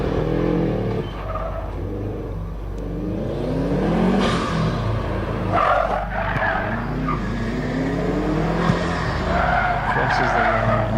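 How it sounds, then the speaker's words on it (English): A Subaru WRX race car at a hillclimb event screeches through with tire squeal and a revving engine, loud and passing close, while a commentator talks over it. "Ivan in his WRX coming through."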